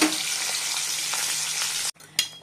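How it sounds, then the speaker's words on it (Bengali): Hilsa fish frying in a pan makes a dense, loud sizzle close up, which cuts out abruptly near the end, followed by a single short clatter. "আর এদিকে ইলিশ মাছটা ভাজিয়ে দিয়েছি"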